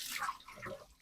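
Water is poured over washed laundry to rinse it, a brief soft splash and trickle, close and faint, lasting about a second.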